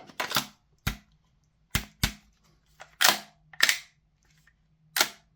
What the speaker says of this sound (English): Let's just charge them up with some propane here. We can give it a quick dry fire, make sure it works.